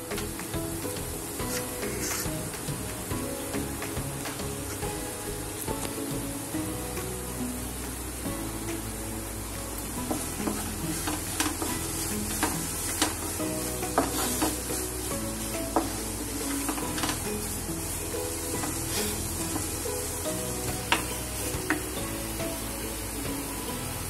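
Coconut barfi mixture being stirred in a hot pan, giving a continuous dense sizzle with faint scraping and small clicks of a spoon throughout, steady and close, with no voices.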